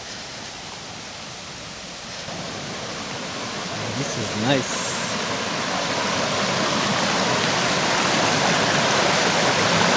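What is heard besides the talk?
river flowing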